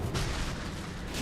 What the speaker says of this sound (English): Typical dragon. Opening with fire.